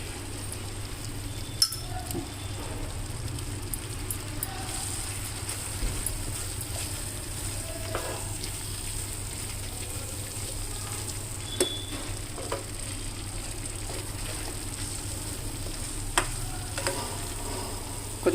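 Corn rava upma being stirred with ghee in a pan, a steady soft sizzle with occasional clinks of a spoon against the pan, alone without talk.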